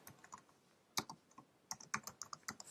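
Computer keyboard being typed on to enter a short group name, a quick irregular run of soft key clicks, close and quiet with no voices.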